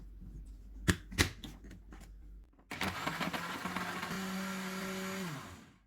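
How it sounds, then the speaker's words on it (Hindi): Cocoa powder, sugar, milk and ice cubes are blended after a few clunks as the jug is set in place; the blender then roars steadily for about three seconds, rattling with ice, before spinning down. "1 teaspoon cocoa powder, 1 table spoon चीनी, 1 कप दूध डालेंगे, आइस क्यूब्स डालेंगे और इनको ब्लेंड कर लेंगे।"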